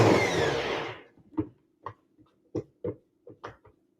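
A blender whirs loudly through a cauliflower and parsley mash for about a second, then shuts off, followed by several soft thumps and knocks as the jar settles.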